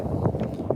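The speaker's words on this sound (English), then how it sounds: "it's a little bit windy out here" Outdoor wind buffets the microphone at a lakeside fishing spot, a dense, continuous low rumble with gusty swells filling the whole short moment, loud and close with no other clear sounds.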